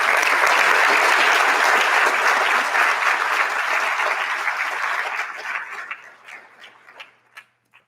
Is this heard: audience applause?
yes